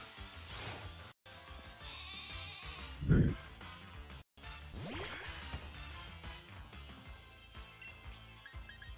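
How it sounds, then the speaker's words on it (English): Sheep bleating from the Pokémon Shield video game, a few wavering bleats rising over steady game music, with one louder cry near the middle. "Ooh, sheep."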